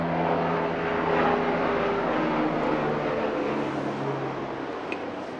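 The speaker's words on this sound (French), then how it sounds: "je laisse passer l'hélicoptère" Helicopter passing overhead, a steady broadband rotor and engine roar with low throbbing tones, loud and continuous throughout, slowly fading toward the end.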